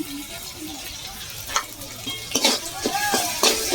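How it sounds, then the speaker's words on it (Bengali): Spices with melted tomato and garam masala are sautéed in a pan; a low sizzle runs under several scraping spatula strokes that grow busier toward the end. "আর একটু ভালো করে কষিয়ে নেব।"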